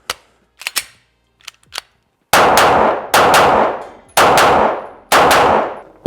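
A Glock 45 pistol fires four loud, sharp shots at a shooting range, evenly spaced with ringing decay, after a few light handling clicks and clanks.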